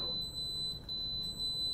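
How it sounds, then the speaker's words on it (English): An electric pressure cooker, one of a Quick Cooker and an Instant Pot, sounds a steady high-pitched electronic beeping tone that pulses briefly and repeats, fairly quiet against a low room hum. "So as soon as we hear this beep,"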